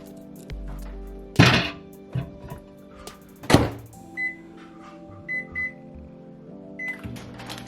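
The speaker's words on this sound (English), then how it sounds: "put them in the microwave just to get them" Kitchen sounds with a couple of loud thunks like a microwave door shutting, then a low microwave oven hum broken by several short high beeps.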